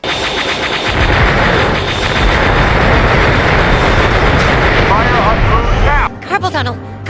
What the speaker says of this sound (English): Let's go rapid fire our laser gun.